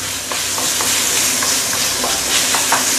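Sambal chili with petai stinky beans stir-fries in a hot wok, a close steady sizzle punctuated by quick scraping strokes of the spatula, with no voices.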